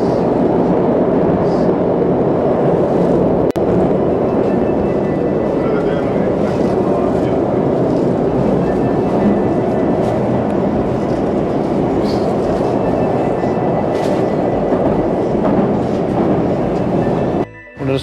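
A Moscow Metro train runs with a loud, steady rumble and roar of wheels and motors through the tunnel, sustained throughout, with a brief clatter near the end.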